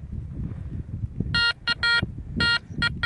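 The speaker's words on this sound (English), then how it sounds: "And now it's ringing in the 40s." A Garrett Ace 400 metal detector sounds a series of bright electronic beeps in short, uneven pulses over windy outdoor noise in a farm field by an 1800s Victorian home.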